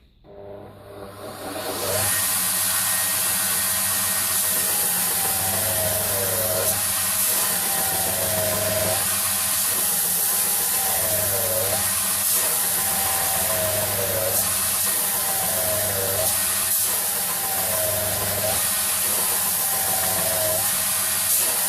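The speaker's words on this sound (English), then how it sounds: "So right now I'm going to grind a rough profile before I start rounding." A power grinder shapes the rough profile of a wooden handle with a loud, continuous whine and hiss. The pitch dips rhythmically each time the tool bears into the wood, repeating at regular intervals.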